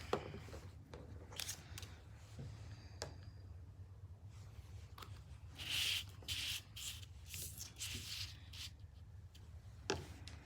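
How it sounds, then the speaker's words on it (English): Faint, close scraping and swishing of a blade drawn along a track through paper for a scrapbooking piece, in short strokes with small ticks and pauses, quiet and with no talking. "we want to use the inner track and we want to cut 2 of these."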